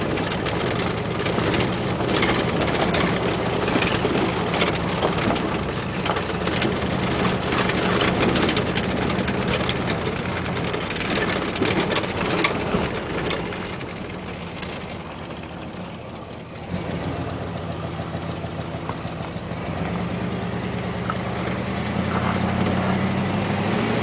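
A 1973 Cadillac Calais rat rod's big engine rumbles steadily and loudly while driving on blacktop, with a brief dip in level midway before the drone returns, close and continuous with no talk.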